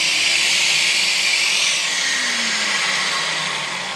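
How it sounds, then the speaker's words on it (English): A shop vacuum hooked up to a Festool sander adapted to fit other tools in a woodworking shop runs with a steady loud whine and rushing airflow, easing slightly toward the end. "turn on the vacuum."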